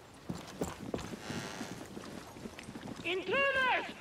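Horse hooves clip-clopping on the ground in the video game Far Cry 6, a few light irregular steps at moderate distance, followed by a louder whinny-like sound, with a voice heard.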